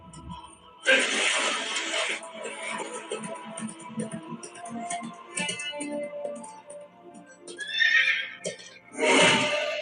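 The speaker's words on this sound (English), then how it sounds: "Horse is coming. His horse. That is his horse, no?" A horse neighs loudly in several bursts, with a long whinny near the start and more at the end, in a scene from the Telugu film Magadheera, while people talk in between.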